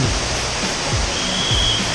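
Steady roaring rush of the Bogota waterfalls on the Indravati river, a constant broad wash of falling water with no breaks.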